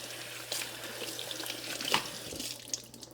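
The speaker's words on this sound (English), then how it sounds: "We love this fountain though, we really do." A pet water fountain runs with a steady, quiet trickle and light splashing, close by and faint, with a few brief louder drips and no talking.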